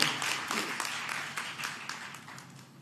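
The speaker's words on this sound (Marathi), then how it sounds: "आता भागवतांच्याकरता जोरात टाळ्या होईल" Applause for a speaker at a state-level science one-act play competition prize ceremony, a fairly faint, steady clatter of clapping from an audience that fades slowly.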